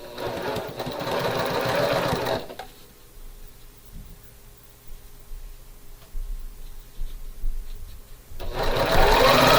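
A sewing machine stitches a quarter-inch seam on a quilt block, whirring steadily for a couple of seconds, pausing quietly with faint handling, then starting up loud again near the end.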